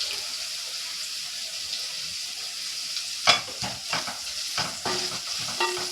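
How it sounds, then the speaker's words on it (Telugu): Turmeric is stirred into a sizzling tempering in a pan. A quiet, steady frying hiss runs throughout, with several sharper scrapes and clatters from stirring in the second half. "కొంచెం పసుపు వేస్తున్నాను"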